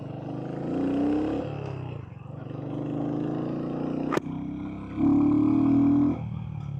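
Royal Enfield Hunter 350 motorcycle engine under way, a steady low throaty drone that swells into louder revving pushes, close to the rider, with a sharp click partway through.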